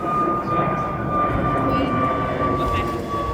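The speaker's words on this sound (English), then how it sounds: "And a train." A train rumbles steadily close by a canal, a constant low roar with a sustained high tone running through it.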